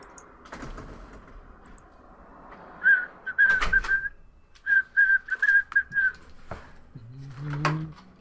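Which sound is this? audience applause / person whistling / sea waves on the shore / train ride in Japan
person whistling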